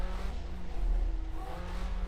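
Engine of a 1975 Formula 1 car in rFactor2, a low, steady drone with slight pitch wavering, close and continuous through a short stretch with no talking.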